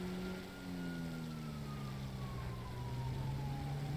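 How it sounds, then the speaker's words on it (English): Police sirens wail behind the player's car in the GTA V video game, several sirens rising and falling together at a moderate distance over a steady engine hum. "I do hear sirens behind me."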